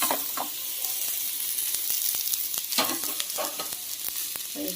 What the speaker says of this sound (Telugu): ఇప్పుడు దీనిలోకి పన్నీర్ ముక్కలు ఫ్రై చేసిండేవి వేసేస్తాను